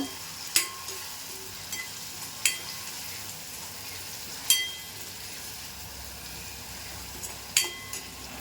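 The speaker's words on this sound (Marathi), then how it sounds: "थोडी व्यवस्थित अशी परतून घ्यायची थोडा कच्चा वास जाईपर्यंत" Chicken and masala paste sauté in a pan for Malvani sukha chicken, giving a quiet, even sizzle broken by about four sharp spatula taps or scrapes at irregular intervals.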